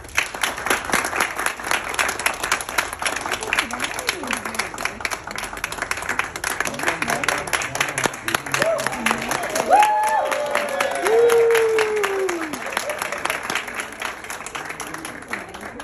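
Audience applause at a book launch as the book is unveiled, a dense, steady patter of many hands clapping throughout, with a few cheers or whoops rising over it near the end.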